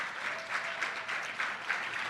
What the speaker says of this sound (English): Give her a big round of applause for doing this.